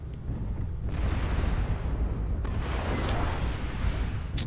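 Incoming missile explosions in MechWarrior Online, a broad rumbling blast that swells and holds for several seconds with a second burst midway and sharp crackling impacts, loud and unbroken.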